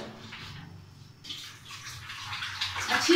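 Potatoes being rinsed under a running tap in a home kitchen while preparing samosas, with a steady splashing water stream that grows louder and busier toward the end, alone without talk.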